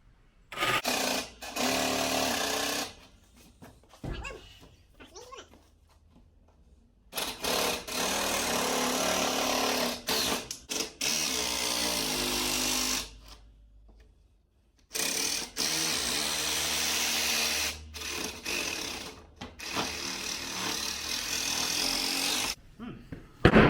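A jigsaw cutting through wood in several loud buzzing bursts of a few seconds each, separated by short silent pauses, heard up close.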